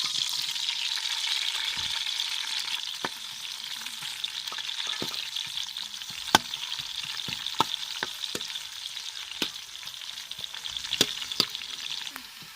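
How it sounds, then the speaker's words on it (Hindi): Chopped onions fry in about two spoons of oil in a pan, giving a steady, close sizzle with scattered sharp pops and crackles and occasional stirring scrapes. "अभी प्याज ब्राउन हो रहा है हमारा, अभी अच्छी तरह ब्राउन हो जाएगा।"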